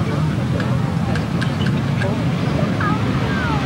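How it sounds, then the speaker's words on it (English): A pack of grasstrack racing motorcycles revs hard at the start line, a loud, dense, continuous engine roar from several machines at once, with faint commentary-like voices in the mix. "The revs rise, but not nobody's gone anywhere just yet."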